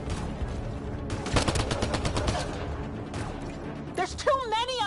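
Rapid bursts of automatic gunfire crackle in a Mass Effect firefight, dense volleys in several waves, with a voice talking over the shooting and a warbling synthetic tone near the end.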